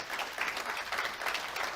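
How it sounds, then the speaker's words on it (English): Audience applause at a virtual gala, a brief burst of steady clapping with no voices over it. "a resounding and deserved applause"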